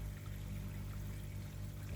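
Air bubbles rise through pond water with a soft, continuous trickling and bubbling, quiet and close, alongside a low steady hum.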